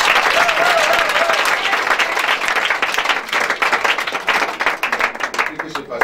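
A church congregation bursts into applause to acclaim the Lord, dense clapping that starts strong and close, then thins into scattered, uneven claps as it fades over several seconds, with voices mixed in.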